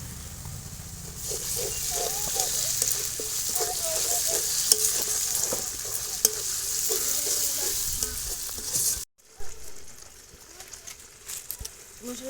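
Cumin and spices fry in hot oil for a village-style broiler chicken kasha, a loud steady sizzle with stirring scrapes throughout, briefly cut off near the end before resuming more quietly.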